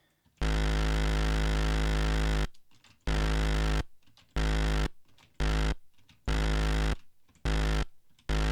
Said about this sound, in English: This is the sound of Nivrig sliding in quietly.